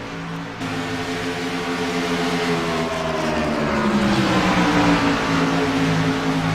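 Race cars roar around an oval track during a broadcast race, several engines overlapping in a loud, continuous drone whose pitch rises and falls as the cars pass, with no voices over it.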